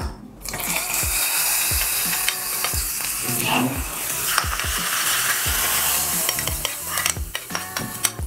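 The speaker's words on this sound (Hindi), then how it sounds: "इसमें मैं डाल देती हूँ तड़का" Steady, crackling sizzle of hot tempering poured into bathua raita, continuous and close, with scattered clinks and scraping of a spoon throughout.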